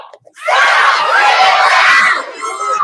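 A group of children screams together at full volume as an attention getter, a sustained, loud, shrill crowd scream that holds for about two seconds before dipping, then surging again.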